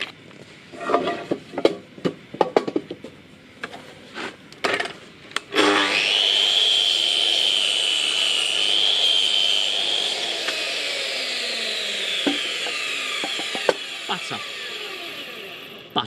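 A power saw fitted with a new blade spins up and cuts steadily for about ten seconds, a loud high whine after a few knocks and bits of talk from a man in his workshop.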